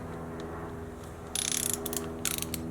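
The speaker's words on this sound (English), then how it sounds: "I've got the big torque wrench out. I'm just gonna do 75 foot-pounds." A large torque wrench ratchets as a bolt is tightened toward 75 foot-pounds, giving two short bursts of close mechanical clicking over a steady low hum, with no talking.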